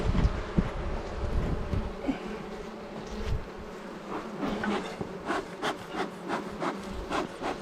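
Honeybees buzz in a busy, continuous drone around hive frames as they are cleared off, close up, with wooden frames rubbing and scraping underneath.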